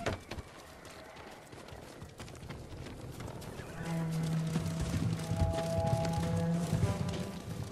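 Horse hooves clip-clopping in Ghost of Tsushima, a steady run of hoofbeats under a game soundscape, growing louder midway with a low rumble and some tonal music layered in.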